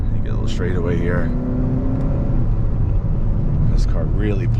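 A 2021 Hyundai Sonata N Line with the 2.5 turbo accelerates hard, heard from inside the cabin as a steady engine drone with a rising tone. A voice talks over it throughout.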